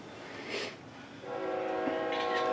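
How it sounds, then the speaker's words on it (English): A train horn sounds with a steady harmonic tone building over a low rumble, fairly distant and moderately loud, with no talking. "That's the train, y'all."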